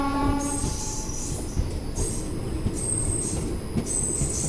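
Chennai SF Express train arriving at Piduguralla station: a steady rumble of rolling wheels and carriages, with high-pitched squeals of wheels and brakes recurring throughout and a brief horn-like tone near the start.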